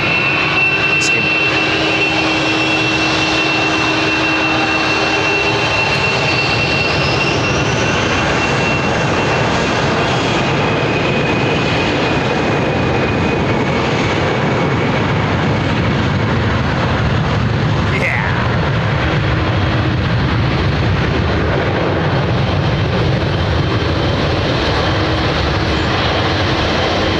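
An airliner with GE jet engines at Heathrow Airport, a loud sustained roar with whining tones that builds and holds as it passes close by, with voices talking underneath.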